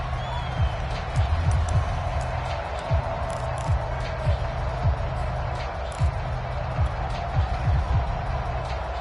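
A home stadium crowd in an American football video game roars steadily throughout, a dense constant din with intermittent sharp thumps and peaks.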